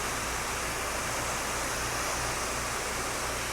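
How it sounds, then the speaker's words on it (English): A pressure washer rinsing window screens on a house, giving a constant, loud, broadband hiss of water spray that stays unbroken throughout. "Get these screens rinsed out."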